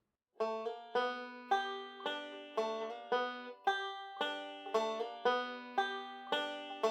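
A banjo plays a slide leading into an alternating thumb roll. Bright plucked notes ring in a steady, even rhythm, played alone and close.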